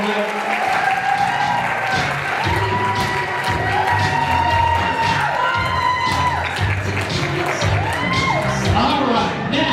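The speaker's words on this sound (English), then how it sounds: "let's give them one more huge round of applause" An audience at a local Dancing With The Stars charity show applauds and cheers loudly and steadily, with whoops and shouts rising over the clapping, and a voice talking through it.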